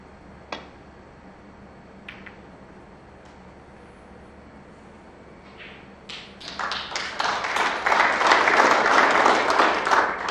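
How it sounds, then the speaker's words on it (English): Audience at a 2021 Champion of Champions snooker group-stage match breaks into applause after a few isolated taps, swelling into steady, dense clapping from a sizeable crowd that fills the arena without speech. "worthy round of applause"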